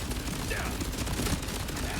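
Legendary gun from Borderlands 4 firing in a rapid, continuous automatic stream, dense overlapping shots filling the full two seconds at a steady, loud level.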